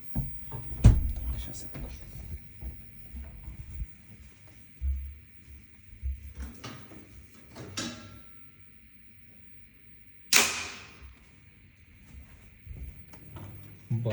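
A single sharp mechanical click snaps out midway through as a PowMr 4.2 inverter's relay switches, set against a faint steady hum, with a person talking quietly before and after.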